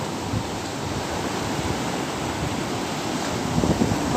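Strong sea waves at the shore, a constant loud rushing roar of surf mixed with wind noise, no voices.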